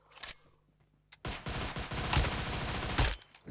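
Scorpion gunfire in PUBG erupts in a dense, sustained burst of rapid shots after a few isolated early cracks, loud and close with no talk over it.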